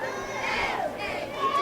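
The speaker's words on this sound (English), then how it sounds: "A big crowd on the Luverne side." Large high school football crowd in the Luverne stands during the Luverne vs Highland Home game, a steady dense murmur of chatter and shouts with no single voice standing out.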